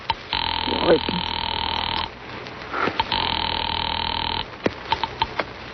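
An old telephone rings in two long electric bursts separated by a pause, fairly loud and close, with faint vocal noises around it, on an old-time radio drama.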